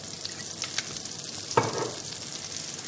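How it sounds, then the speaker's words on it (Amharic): Butter and a little oil heating in a cooking pan give a soft, steady sizzle, close by and fairly quiet, with a brief louder crackle partway through; no talking. "ከዛ ቅቤ ጨምሬበት ትንሽ ዘይት እንጨምርበታለሁ።"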